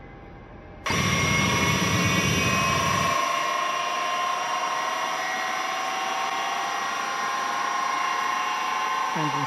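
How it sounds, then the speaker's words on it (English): Engine number 3 of a Tupolev Tu-154 airliner starts up in the X-Plane 11 flight simulator. A sudden loud turbine whine cuts in and climbs steadily in pitch as the engine spools up, with a low rumble underneath that fades after a few seconds. "Starting engine 3."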